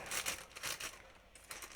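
Soft crinkling of a small plastic parcel from an Aliexpress unboxing, with several quiet bursts of rustle and crackle in an irregular rhythm and no talking.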